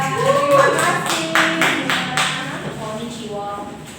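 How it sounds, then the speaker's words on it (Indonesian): Classroom applause, a short burst of hand clapping from a group of students, mixed with voices talking over it. "Tepuk tangan buat Mbak Fadila"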